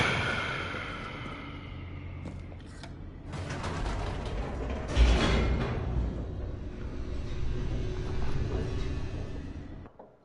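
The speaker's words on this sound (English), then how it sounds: "The elevator raced downward, plummeting towards an unknown fate." Elevator descending in The Stanley Parable, a continuous mechanical rumble with creaking, grinding and ratcheting noises, rising in intensity midway then settling into a steady drone before stopping abruptly.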